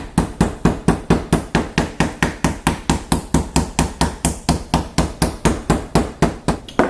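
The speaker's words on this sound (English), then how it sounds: "I'll just kind of hammer it out to even give it more, it makes it more tender" A meat mallet pounds raw beef on a board to tenderize it, a fast steady run of loud, close thuds with no talking.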